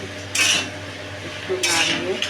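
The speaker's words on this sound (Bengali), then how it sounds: "এবার আর একটু নাড়িয়ে" A utensil scrapes and clatters against a pan twice as pumpkin is stirred in oil, two short metallic bursts close by over a low steady hum.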